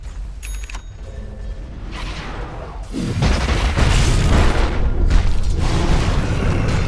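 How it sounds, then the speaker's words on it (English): A defensive tower crumbling in a Dota 2 match, a deep rumbling boom with crashing, grinding debris that swells after a few seconds and holds loud and dense to the end, with game effects and a faint ring at the start. "Radiant's middle tower has fallen."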